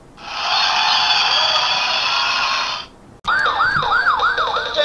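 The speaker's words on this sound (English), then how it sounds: "Turn on the siren," A VTech toy fire truck siren: a loud, steady wail holds for a few seconds, cuts off, then a rapid rising-and-falling electronic siren cycles repeatedly, bright and close.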